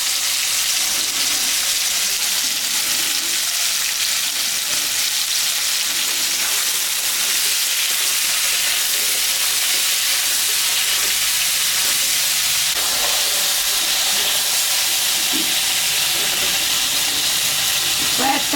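Pumpkin and bitter gourd frying in a pan, a steady dense sizzle running without pause, close and fairly loud, with faint scraping stirs now and then and no talking.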